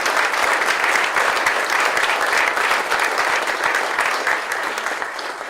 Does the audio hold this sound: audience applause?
yes